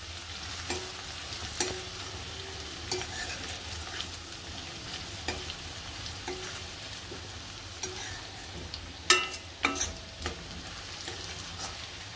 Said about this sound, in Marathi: आता हे मसालाच आपल्याला पूर्ण नीट चांगला शिजवून घ्यायचा आहे